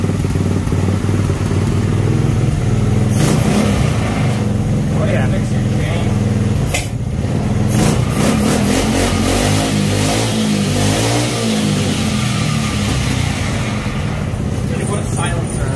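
A go-kart engine revs hard and loud close by, climbing and falling in repeated bursts with a rough mid-range roar, while people talk and shout over the noise.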